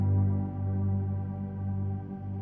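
A sustained cello layer in a cinematic ambient piece, treated with a shimmer effect that adds an octave above, forms a smooth, steady, moderately quiet drone with no pauses.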